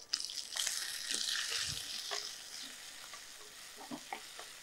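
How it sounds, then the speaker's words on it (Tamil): Tomato going into a pan of sautéed small onions for lotus flower rasam, giving a soft, continuous sizzle with light stirring scrapes and clinks, close but fairly quiet, no voices. "இதில் நான் தக்காளி எடுத்திருக்கேன். தக்காளி இதில் சேர்த்துலாம்."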